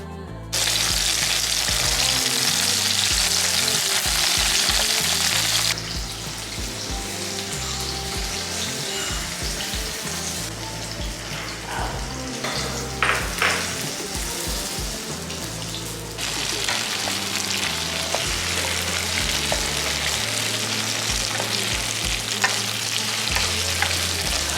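Food stir-fried in a pan with soy sauce and spices gives a steady, loud broadband sizzle with scraping stirs, running throughout under background music that has a clear bass line.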